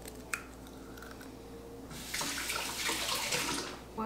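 Tap water runs into a measuring cup for cake batter in a home kitchen, a steady close splashing rush that starts halfway through after faint clinks and lasts about two seconds.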